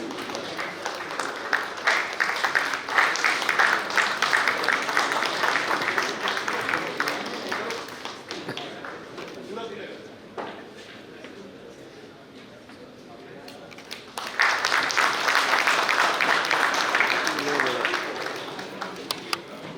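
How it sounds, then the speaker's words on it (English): Audience applause for a guest speaker at a steel industry suppliers' meet conference in Bhilai, a dense sustained clatter of clapping that dips quieter in the middle and then swells again, with no talk over it. "please give a huge round of applause for our guest speaker for the today's session"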